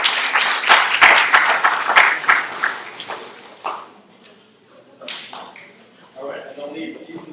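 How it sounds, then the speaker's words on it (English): An audience at a public astronomy talk on cosmic impacts claps for stage helpers in a brisk burst for about three seconds, then the clapping thins out and a voice begins talking. "I would like a big round of applause for my helpers."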